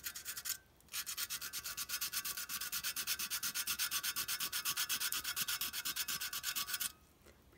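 Sandpaper rubbing paint off a part of a clockwork locomotive, a steady rapid back-and-forth scratching that runs close and loud for about six seconds after a brief start and pause, then stops.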